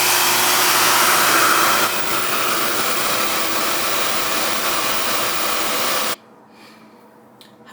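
A blow dryer roars close and steady while drying hair, its airflow shifting slightly partway through before it cuts off, leaving quiet room noise.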